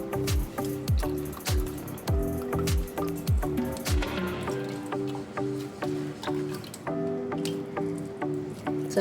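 Grated onion and potato pressed through a strainer give wet squishing and dripping sounds at a steady close pace, with harmonic background music playing throughout.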